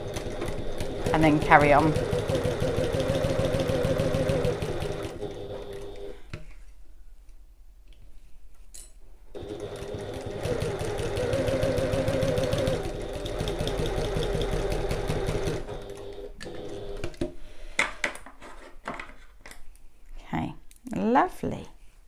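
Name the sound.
sewing machine back stitching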